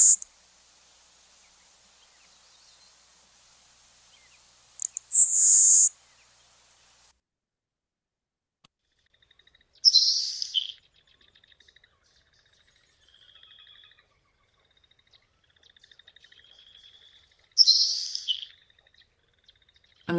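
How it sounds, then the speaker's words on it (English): Recorded sparrow songs including Nelson's Sparrow, heard as a few brief, high, sizzly and insect-like buzzy bursts separated by long quiet gaps, faint and thin with no talking. "Play the two again, the tick-a-ch, kind of insect-like and harsher, and then the Nelson Sparrow, which is more sizzly and ephemeral."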